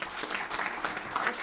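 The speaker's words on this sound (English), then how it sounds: "let's have a big, big round of applause for Dr. Heckner." Audience applause at the launch event of a civil society mission for distressed Indians overseas, a steady broadband clapping that holds evenly through the short stretch without voices.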